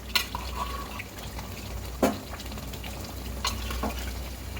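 Chunks of meat dropped one by one into spice masala frying in a pan, giving a steady low sizzle with a few sharp clatters and splashes as pieces go in.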